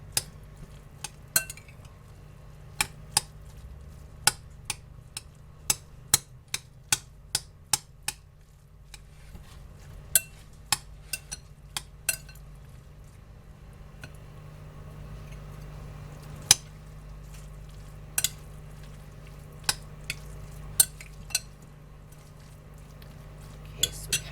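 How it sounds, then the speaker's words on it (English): Sausage being mixed in a bowl with a utensil, sharp clinks and taps against the bowl recurring irregularly over a quiet background, some in quick clusters. "Mix that up."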